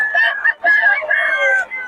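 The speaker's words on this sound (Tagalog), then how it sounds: "ito mga manok ni Boss Mac oh" Gamefowl roosters from a game farm crowing loudly and close by, one long crow running into another with no break.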